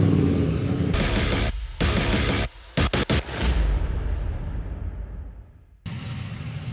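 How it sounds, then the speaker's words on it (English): Bernie's V8s and historic outlaw race cars roaring out onto the track at Thruxton, loud engines revving and passing close with sharp gear-change gaps, one car's roar fading away before another bursts in. "the roar because we've got the Bernie's V8s and historic outlaws making their way out onto the track"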